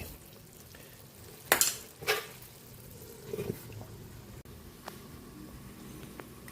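Chicken adobo with a little sugar added simmers in a pan, with a few scraping stir strokes over a soft bubbling sizzle, heard close and with no talk.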